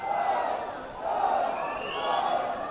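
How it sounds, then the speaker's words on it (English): A crowd at a swimming championship final at the Sugathadasa pool rises in sustained cheering, a broad steady roar swelling in waves with a few higher shouts and whistles near the end. "Crowds finding their voices here at the Sugathadasa."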